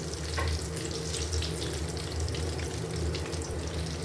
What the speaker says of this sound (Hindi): इस तरह से हम सब डाल लेंगे और इनको हमने हल्की आंच पर फ्राई कर लेना है।